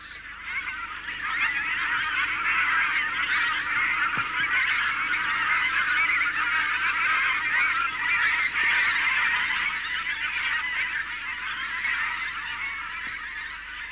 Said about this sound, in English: come the pink-footed geese, which feed in thousands on the fenland fields and flight each evening over the reserve